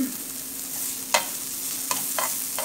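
Beef sizzles in a frying pan while being stirred, producing a soft continuous frying hiss broken by a few sharp scraping taps of the utensil against the pan.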